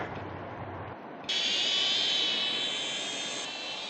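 Small racing drone lifting off in a backyard in Touraine, its motors spinning up into a sharp, loud high-pitched whine after a short lull, holding steady as it climbs.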